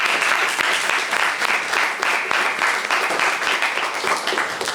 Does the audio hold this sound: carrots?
no